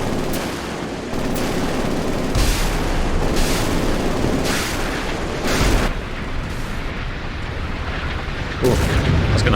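Naval gun battle in the game Sea Power between Australian Hobart destroyer and Mogami frigate and Chinese 055 destroyer and 054B frigate: a dense, continuous rumble of gunfire with repeated loud explosive bursts booming every second or so.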